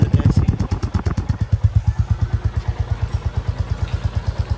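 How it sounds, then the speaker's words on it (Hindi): A new Royal Enfield Classic Reborn 350 motorcycle idles close up, its single-cylinder thump loud and even after a brief rev at start-up, with a steady, evenly spaced beat. "ये देखो मम्मी से भी ऑन करवा ली बाइक"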